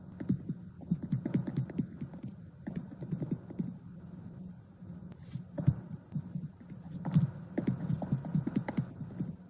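Washing machine in a video game running with a steady low throbbing hum and rhythmic thumping, moderately loud and continuous, without speech.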